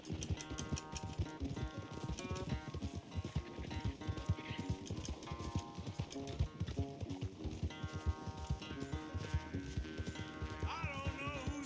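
Galloping horse hooves during a horse race in Red Dead Redemption 2, a quick steady clip-clop rhythm running throughout under game music.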